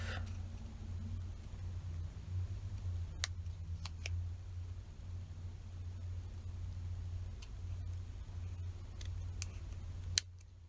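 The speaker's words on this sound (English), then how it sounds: "what I'm going to do is trim around that base" Scissors trim paper charms, giving a few sharp, isolated snips spread over the stretch against a low, steady background hum.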